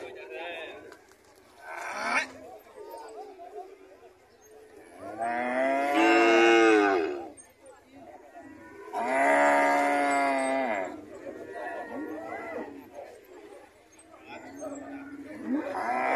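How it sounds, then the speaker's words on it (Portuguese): A cow at a cattle market in Águas Belas, Pernambuco, moos several times, long drawn-out lowing calls spaced apart, fairly close, with quieter gaps between them. "Ô, vaca nervosa"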